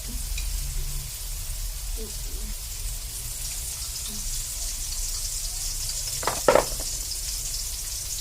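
Oil sizzles softly in a pan while mung beans and garlic are sautéed, a low steady frying hiss with a brief clatter of utensils near the end and no talk.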